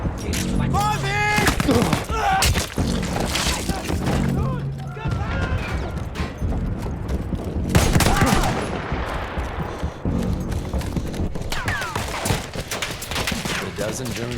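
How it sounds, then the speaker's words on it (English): Dense machine gun fire in the World War I shooter Battlefield 1, German guns raking No Man's Land among barbed wire, with rapid overlapping bursts that run nearly nonstop, loud and close, while voices shout in the mix. "The dozen German machine guns at my back kinda encouraged me to keep my head down."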